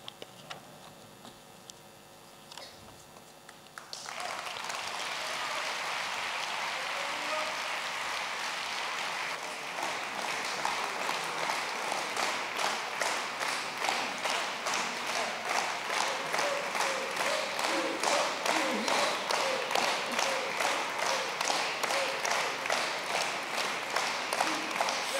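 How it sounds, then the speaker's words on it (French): Applause from a church congregation during a Catholic charismatic gathering, starting low and thin, then swelling into a full, steady wash of clapping that settles into rhythmic, unison beats that carry on to the end. "on va applaudir Jésus"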